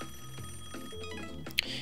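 A telephone in the rhythm game Rhythm Thief and the Emperor's Treasure rings in a repeated electronic pattern, steady and moderately loud over soft game music.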